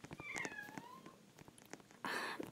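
A cat meows twice, a drawn-out falling cry followed by a short, loud, bright meow near the end, close to the listener.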